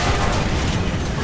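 A HEAT round from a modern tank cannon strikes its target in War Thunder, a dense, rumbling blast that fills the short moment with sustained low roar and crackling debris, loud and close, no voices.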